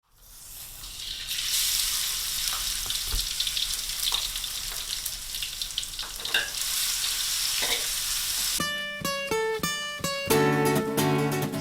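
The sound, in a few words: stir-frying vegetables with garlic, onion, pepper and salt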